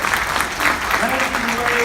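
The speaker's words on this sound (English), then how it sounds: "So another round of applause for our founder" Applause from a company event audience greeting its founder, a steady wash of many hands clapping with some tonal background sound underneath.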